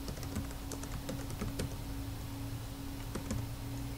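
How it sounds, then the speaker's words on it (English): Steady typing on a computer keyboard while entering a name into a Word research paper document, with quick close key clicks in irregular bursts over a constant low hum, no talking. "At the bottom of the page 78, it says type Teddy Bailey."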